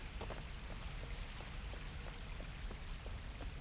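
Waterfall in the video game Uru, a faint, steady rushing wash of falling water with scattered droplet-like splashes, continuous and distant.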